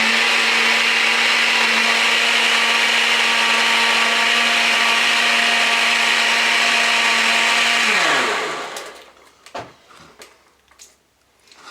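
A blender liquefying ingredients for a Thanksgiving ale, a loud, steady motor whir running for about eight seconds, then winding down in pitch and stopping, followed by a few light clunks and knocks.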